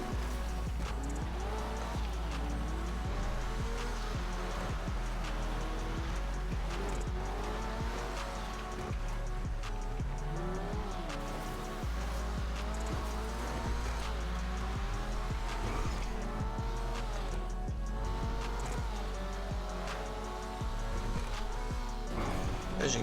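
In GTA Online, an Annis Euros X32 sports car drives off-road, its engine droning continuously and loudly over rough terrain with scattered clatter and tire noise, while a person talks over it.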